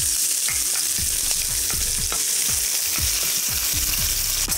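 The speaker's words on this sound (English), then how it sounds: "let's add some onion." Onion and cumin seeds frying in hot oil, a steady loud sizzle with a series of soft stirring knocks at a regular pace throughout and no talk.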